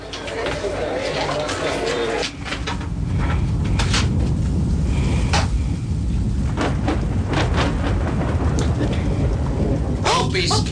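Heavy rain pours steadily in a radio drama storm effect, with thunder cracks and rumbles breaking through, while actors' voices speak over the downpour.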